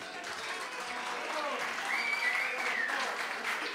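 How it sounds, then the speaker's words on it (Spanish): Audience applause at a live guitar music performance, a steady wash of clapping lasting about four seconds, moderately loud and heard from within the crowd, with no talking over it. "¿Para quién pide un fuerte aplauso,"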